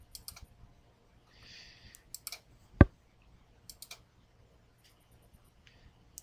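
Sparse mouse clicks while installation options are selected on a computer, a few small ticks scattered across a quiet room with one sharper, louder click near the middle.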